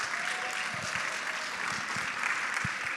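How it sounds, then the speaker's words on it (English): An audience of expo attendees at a leadership meeting claps steadily for about three seconds. The dense, even applause fills the hall, with a few louder individual claps standing out. "Let's give a round of applause to these people."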